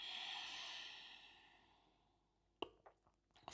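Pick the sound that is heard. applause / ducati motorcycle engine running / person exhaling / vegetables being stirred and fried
person exhaling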